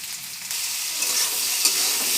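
Potatoes fry in a pan for a Bengali shutki fish dish with brinjal and dheki greens, giving a steady hissing sizzle with faint stirring scrapes, close and continuous, with no one speaking.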